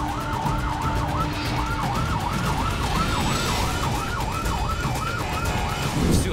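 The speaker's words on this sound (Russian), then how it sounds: "впервые в жизни, друзья, я удираю от полиции с мигалками и с сиренами." A police car siren in Pakistan wails in a fast, repeating up-and-down sweep, loud and close, steady throughout over road and engine noise.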